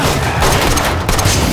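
Gunfire in an action film scene: a loud, dense burst of overlapping shots and booms fills the whole moment without a break, close and heavy, with no talking.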